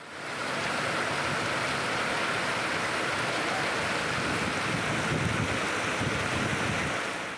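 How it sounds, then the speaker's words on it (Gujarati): Heavy rain driven by strong wind in Sihor, Bhavnagar, a dense, continuous roar of downpour and gusts that stays loud and steady throughout. "ભાવનગરના શિહોરમાં ભારે પવન સાથે ધોધમાર વરસાદ થયો"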